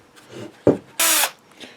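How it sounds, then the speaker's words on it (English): Small drill boring holes for 3mm LEDs in a model starship engine band, heard as a short bite around 0.7 s, then a louder, sustained whirring burst for about a quarter second, with quiet handling noise between. "drilling holes for 3mm LEDs"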